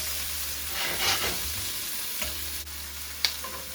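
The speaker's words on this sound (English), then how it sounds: "We're gonna take the edge off these, get them nice and fried up" Peppers and onions sizzle steadily in a hot pan for Jamaican steamed fish, a close crackling hiss with a few stirring scrapes and clicks, no voices over it.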